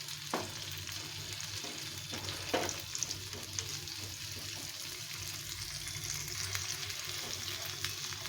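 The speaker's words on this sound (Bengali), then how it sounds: "পেঁয়াজটাকে একটু লাল লাল করে ভেজে নেব।" Diced onions frying in refined oil in a pan, a low continuous sizzle with a few sharp scrapes and clinks of a stirring spoon, heard close and alone.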